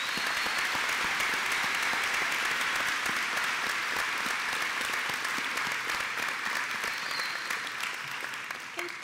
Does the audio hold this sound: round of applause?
yes